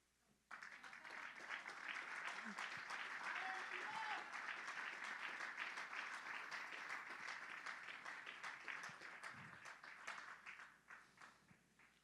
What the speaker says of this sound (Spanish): Ese era el momento de aplaudir.